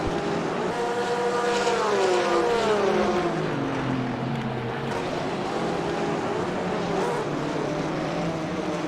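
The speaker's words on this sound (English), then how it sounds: "And a car coming around here." A GT3 race car in a Blancpain GT3 Series sim race at Misano World Circuit, its engine note sweeping down in pitch as it passes, with more engine drone continuing steadily behind it.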